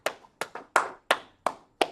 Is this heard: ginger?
no